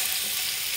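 Meat sizzles as it goes into a hot pan with green beans, a loud, even, close frying hiss filling the short moment with no talk.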